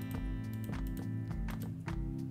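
Horse hooves clip-clop in a Minecraft barn, four evenly spaced clops at a steady walking pace, close and clear over a continuous low in-game drone.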